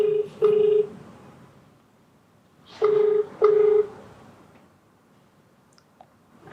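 Touch-tone telephone keypad beeps while dialing a viewer's number from a TV studio: short, clear tones in separate groups with brief pauses between them, fairly loud and close, with no talk.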